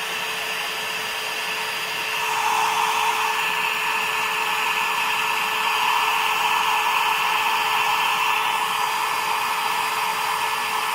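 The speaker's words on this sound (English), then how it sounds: "I think that's it for embossing" A heat tool melting clear embossing powder for a scrapbook page blows a steady, close whooshing roar like a hair dryer, rising slightly after a couple of seconds and continuing alone without talk.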